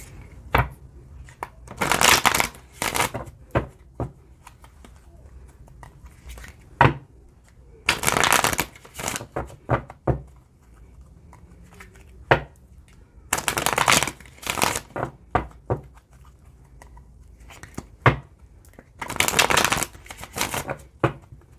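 Tarot cards shuffled and drawn in repeated bursts of riffling and slapping, several separate rounds with short quiet gaps between, close and crisp.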